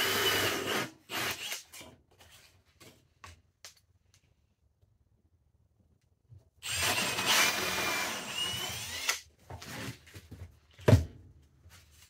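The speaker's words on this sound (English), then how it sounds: "you're going to cut out two 1 1/4-inch holes." A hole saw cuts 1 1/4-inch holes through wood in two separate bursts of loud, gritty grinding, with a quiet gap between them and a few short knocks afterward.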